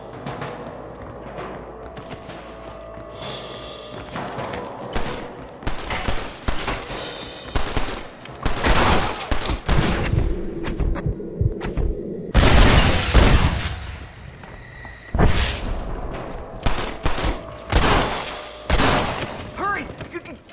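Gunfire in the Western game Red Dead Redemption, several sharp bursts of shots, some loud and close, with crashing impacts scattered across a noisy battle scene and voices speaking in between.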